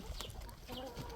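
A flock of about twenty hens gives short, quiet clucks around a Rhode rooster, a few close calls over a low farmyard background.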